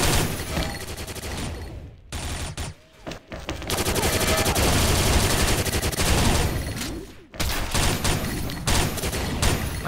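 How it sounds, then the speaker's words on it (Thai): Rapid gunfire from WR-class guns in the shooter game XSHOT, Ghost Mode: dense, loud bursts of fast automatic fire nearly throughout, with a few brief pauses between volleys. "ปืนพวก WR มันลั่นเร็ววะ"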